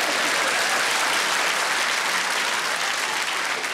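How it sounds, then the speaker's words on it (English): An audience at a stand-up comedy show claps steadily, a dense, loud wash of applause from the crowd that holds throughout without a break. "you're all clapping"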